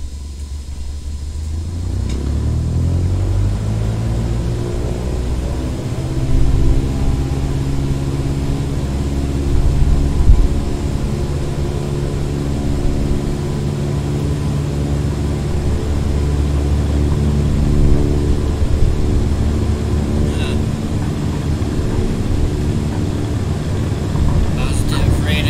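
Aircraft engine droning through takeoff and climb in Microsoft Flight Simulator 2020, a loud steady rumble with rising and shifting tones, continuous throughout, while voices talk over it.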